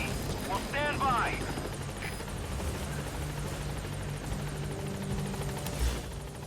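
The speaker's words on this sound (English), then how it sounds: "Let me just run away from this helicopter." Support helicopter in the Metal Gear Solid V video game, a steady low rotor rumble holding throughout, with a brief warbling voice-like burst near the start.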